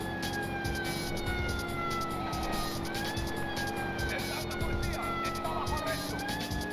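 Police car siren in the video game Driver 2, wailing tones rising and falling over a steady engine drone and road noise, moderately loud throughout.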